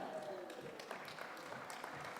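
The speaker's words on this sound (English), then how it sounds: "Please give yourself an amazing round of applause." Scattered audience applause at an AI for Good conference event in India, very faint and distant, with a few individual claps standing out amid background voices.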